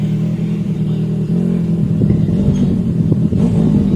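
A Benelli motorcycle engine runs close by during maintenance, holding a rough, throbbing idle and then climbing into a few short revs with a low, buzzing exhaust note.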